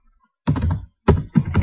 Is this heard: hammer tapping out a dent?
no